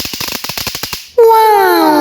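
New Year firecracker going off close by: a rapid, even run of sharp crackling pops lasting about a second, then a loud, sustained whistling tone that slides slowly downward.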